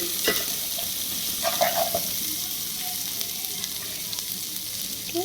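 A spice paste seasoned with salt, stirred and fried in a pan before rice goes in, giving a continuous close sizzle with intermittent scraping stirs and no voices.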